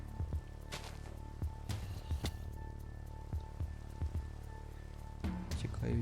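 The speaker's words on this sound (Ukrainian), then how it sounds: "Ще й дощ почався." Steady rain in a video game patters on surfaces with scattered heavier drops and drips, a continuous wet hiss at moderate level, with a faint hum underneath.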